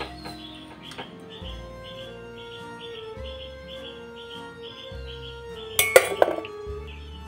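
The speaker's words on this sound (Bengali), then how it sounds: "জল থেকে এবার ছেঁকে আলুগুলোকে তুলে নেব।" Blanched potatoes are strained out of their cooking water, with light clinks and taps of utensils and dishes through the clip and a brief cluster of louder metallic clatter near the end, nearby and without talking.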